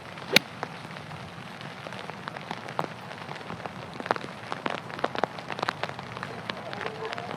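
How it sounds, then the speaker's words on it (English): Steady rain pattering across a golf course fairway during the final round of an LPGA Ford Championship, a dense spray of close, crisp droplet ticks under continuous hiss, with no talking. "Paige, this consistent rain is really starting to settle on those fairways a little bit."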